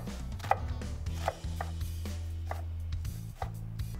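A knife cuts slits in a red onion for a masala omelet sandwich. Several sharp, irregular taps on a cutting board sound up close over a steady low hum, with no talking.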